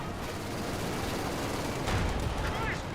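Gunfire from a Company of Heroes 2 match, a steady dense rattle of small-arms and explosive bursts with a louder blast swelling near the end, played under continuous battle noise.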